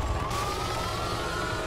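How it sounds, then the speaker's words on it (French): A police siren in a video game wails steadily through a dense rumble of engine and background noise, loud and continuous over the short stretch. "Coupe la sirène, coupe la sirène."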